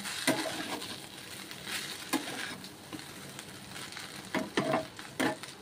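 A pot of biryani with potatoes, egg, spices and ghee is stirred with a spoon, giving soft intermittent scrapes and light sizzling, with a few sharper knocks near the end, close and fairly quiet, no talk.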